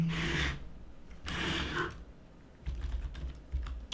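Typing on a computer keyboard in Excel, a few quick bursts of key clicks ending in a press of the Enter key, close and dry with no voice.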